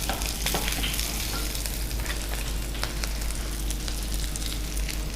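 Cumin seeds tempering in hot oil over onion and garlic already in the pan make a loud, close, unbroken sizzle with crackling pops throughout.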